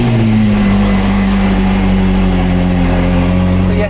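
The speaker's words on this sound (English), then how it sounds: "Cold start." A Ferrari 458 GT3 race engine runs loud and close right after a cold start, a steady deep drone with strong low harmonics holding throughout, no voices over it.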